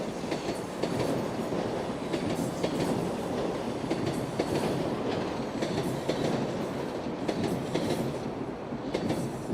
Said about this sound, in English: There's a southbound train.